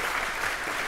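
A conference audience applauds panelists after a design and development talk, a dense, steady wash of many hands clapping throughout, even and sustained with no voices standing out.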